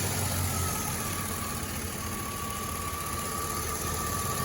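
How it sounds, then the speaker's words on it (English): A Chevy V8 engine idling while running on hydrogen fed into the intake, a steady low rumbling drone with constant vibration and a faint whine, even and unbroken, heard close with no talk. "So that's where we're pumping hydrogen into the engine."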